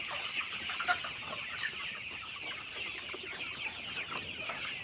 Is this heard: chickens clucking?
yes